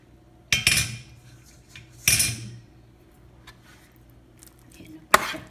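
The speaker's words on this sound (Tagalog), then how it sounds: "Haluin na lang." A utensil scrapes and clanks against a pan while spaghetti with tomato is stirred, three distinct bursts of metallic clatter spaced a couple of seconds apart, close and fairly loud, with no talking.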